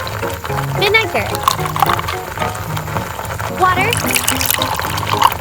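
Vinegar poured into a miniature sweet and sour sauce in a tiny cooking setup, a close, soft liquid trickle in a couple of short streams with faint clinks of small utensils.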